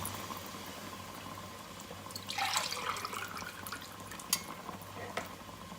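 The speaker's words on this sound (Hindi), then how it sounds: "ये 2 कप यखनी मैंने ऐड कर दी है।" Mutton yakhni stock is poured into cooked masala for pulao: a soft, faint sizzle and bubbling that swells briefly midway. A steady low hum from the kitchen runs underneath.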